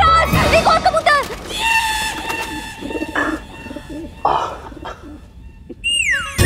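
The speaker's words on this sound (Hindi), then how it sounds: "एक और कबूतर।" Pigeons cooing and fluttering near a royal palace court, with a bird call rising over music and voices, loud and close, lasting several seconds.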